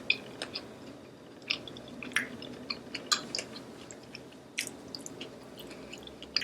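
Crunchy, crispy fried vegan shrimp being chewed up close, a steady series of wet crunches and bites with soft squishy texture between them and no talking.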